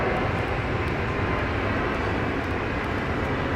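Boeing 737-300 airliner at Brisbane airport, a steady broad engine roar without breaks, loud and continuous, heard alone with no talk.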